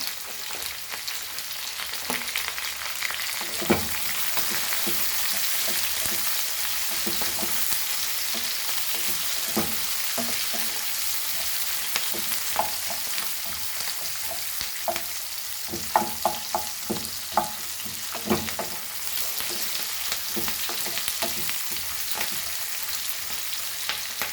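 Goan mackerel ambotik masala frying with a pinch of hing, a steady bright sizzle running throughout with frequent scraping stirs and ladle taps, close and continuous, no talking.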